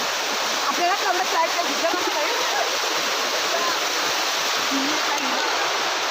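A waterfall in a Kokan village pours in a loud, constant broadband rush of falling water, with faint voices mixed in beneath the roar.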